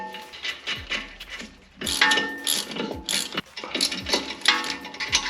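A ratchet fastens nuts and bolts on a BMW X5 E70 front end, giving up-close bursts of rapid metallic clicking in repeated strokes, with brief pauses between turns.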